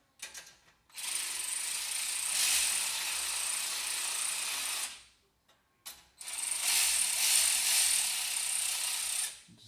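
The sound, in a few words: tightening bolts on a Ferrari 430 exhaust mount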